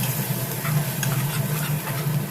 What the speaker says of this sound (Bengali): ওই পেস্ট মশলাটা দিয়ে ভালো করে কষিয়ে নেব